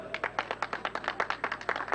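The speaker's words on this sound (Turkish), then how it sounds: "alkışlarla sporcumuzu uğurluyoruz" A small crowd claps in quick, uneven bursts at the start of a stage of the Tour of Mersin cycling race, seeing off a rider from the line; the applause is moderately close and there is no talk over it.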